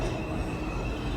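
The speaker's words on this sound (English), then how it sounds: "it's been 15 years since I've seen an uptown two train" Steady low rumble of a New York subway train running along the tracks, a continuous close roar with faint rattling and no voices.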